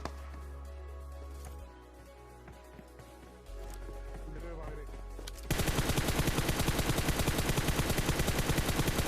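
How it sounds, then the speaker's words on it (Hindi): Dense automatic gunfire in PUBG Mobile, loud and continuous over the last few seconds after quieter in-game ambience with softer shots, rapid bursts stacking into a heavy fusillade. "और फिर यार साइड से फायरिंग चलती है।"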